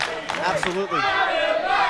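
Arena crowd at a BLW World Heavyweight Championship wrestling match chanting for Adam Maxted, a loud rhythmic mass of voices filling the hall, with a commentator speaking briefly over it.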